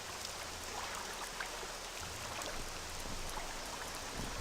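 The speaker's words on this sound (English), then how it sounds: "It's still frickin' raining." Rain falls as a faint, steady hiss with soft scattered drops in The Elder Scrolls game world, continuous and without speech.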